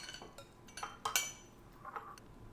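Lobster claw and tail meat folded slowly and gently in a bowl, giving a few light clinks and taps of the utensil against the dish, close and fairly quiet.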